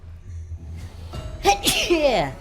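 A character in the video game Hello Neighbor 2 lets out a sharp, loud sneeze after a quiet lead-in, followed by a burst of vocal sound.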